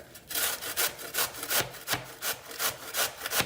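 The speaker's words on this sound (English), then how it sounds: "use the large side of your box grater" Cabbage rubbed rapidly against the large side of a box grater, a rhythmic rasping scrape repeating about three times per second, close and steady with no talking.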